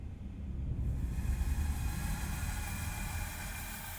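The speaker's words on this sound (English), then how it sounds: "this one is a even more dramatic one. I wanted it to be subtle for this, but this one's called Sand and Locusts." A morphing sound-design drone called Sand and Locusts from the Goliath library: a dense, rumbling wash of noise that swells in over the first second, then holds as a thick, steady roar with faint high layers drifting above.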